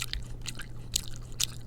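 A person imitates someone chewing gum with a few moist, smacking mouth clicks in an irregular rhythm, fairly close and alone.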